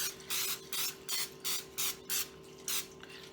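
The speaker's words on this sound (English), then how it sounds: "Now I'm going to go ahead and spray my pan." Eight short hissing bursts of aerosol cooking spray onto baking pans in a quick, even rhythm, close up, over a faint steady hum.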